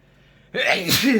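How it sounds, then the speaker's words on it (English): A single sharp sneeze bursts out after a brief quiet moment, loud and close, with a breathy rasping tail. "Man, I gotta sneeze again."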